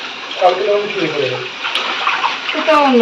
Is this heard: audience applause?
no